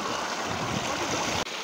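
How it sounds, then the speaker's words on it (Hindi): Satnari waterfall at Gangulpara, a high cascade heard as a steady, dense roar of rushing water that fills the scene without pause, with a brief dip near the end. "गाइस आप देख सकते हो पीछे बहुत ऊपर झरना है।"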